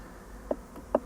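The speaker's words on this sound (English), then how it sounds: "We've got the bees everywhere." A faint, steady insect buzz with a couple of brief louder passes, like bees flying close by, with no voices.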